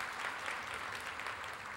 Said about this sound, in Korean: 큰 박수로 축복하겠습니다.